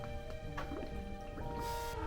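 Foley bubbling made with an air pump in water, soft gurgling drips and small liquid pops over a faint steady hum, quiet and close.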